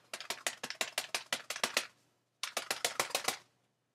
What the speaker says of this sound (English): You definitely heard me hitting my face with that